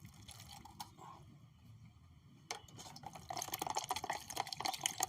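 Homemade liquid fertilizer for hibiscus is poured into a container, starting with a few faint drips and trickles and then building into a louder, continuous splashing pour.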